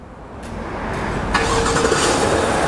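A 2019 Chevy Silverado Z71 LTZ with the 6.2-liter engine is remote started: a brief crank, then the engine catches and settles into a rising, steady idle, loud and close.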